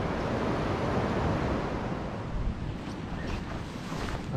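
Strong sea waves wash onto a beach at Hat Wanakon National Park, a continuous rushing surf close by with wind buffeting the microphone and no talking.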